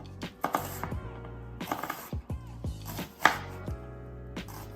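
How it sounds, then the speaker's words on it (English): A knife slices through half an onion on a cutting board, a quick series of sharp chopping knocks in uneven bursts, close and clear with no talking. "We are going to cut it in half and then we're gonna slice it long ways."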